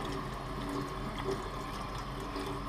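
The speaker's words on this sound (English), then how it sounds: "So I've got the water running over it" Water runs steadily from a tap over a metal garden art fish, a constant soft splashing and trickling hiss, close and fairly quiet, with no talking.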